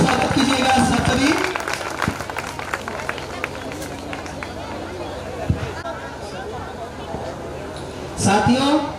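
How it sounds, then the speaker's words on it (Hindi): Audience at a community education award ceremony bursts into applause to welcome a guest, a dense burst of clapping and crowd noise at the start that fades into chatter, with another round of clapping near the end. "जोरदार तालियों से स्वागत कीजिएगा सब सभी"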